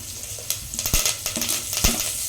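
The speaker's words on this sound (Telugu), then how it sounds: "వేసుకొని బాగా ఫ్రై చేసుకోవాలి" Chana dal, green chillies and curry leaves fry in hot oil, a steady sizzle broken by scraping stirs and sharp spoon knocks against the pan, close and clear with no talking.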